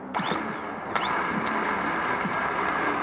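A car starter motor spins on a bench test with a continuous mechanical whir, joined by repeated short rising whines and a couple of sharp clicks, fairly close and steady throughout.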